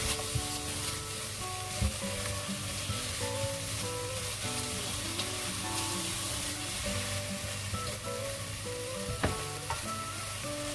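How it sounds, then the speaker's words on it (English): Bell peppers sauté in a hot pan with a steady, dense sizzle that runs the whole time, close and fairly loud, with a few brief stirring knocks. No one speaks. "I'll add them in and give this a quick stir, and would saute it for a minute"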